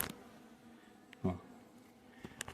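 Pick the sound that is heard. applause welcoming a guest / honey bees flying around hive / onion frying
honey bees flying around hive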